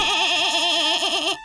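A cartoon goat bleats in a sustained, wavering, musical cry lasting over a second before cutting off, loud and close with no talk over it.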